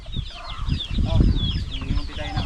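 A mixed flock of chickens, with chicks among them, clucks and chatters nearby in a provincial yard, overlapping calls and low murmuring rising and falling over a couple of seconds, with some background human voice.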